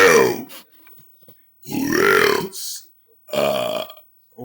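A man lets out three long, loud belches in a row, deep and guttural with short gaps between them, close to the microphone and with no talking.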